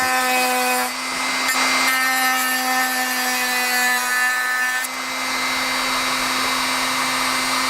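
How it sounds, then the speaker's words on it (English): Dremel rotary tool cutting a small piece off a wooden model aircraft build, a close, steady high-pitched whine with a brief dip in load around the middle and no talk. "might as well go with the Dremel because it's set up. And I'm going to take this little piece out."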